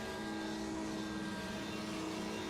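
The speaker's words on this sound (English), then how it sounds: "somebody at the first chicane is revving their engine" A race car engine revs at the first chicane of the Monza circuit, a steady, distant droning hum with a constant pitch and no clear peaks or breaks.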